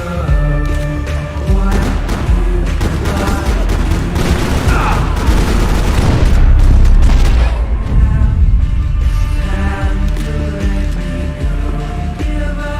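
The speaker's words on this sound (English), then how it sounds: "Grenades." Grenade blasts and heavy gunfire in Max Payne 3 at an airport, with dense, loud booming and rattling shots running continuously from start to finish and swelling near the middle.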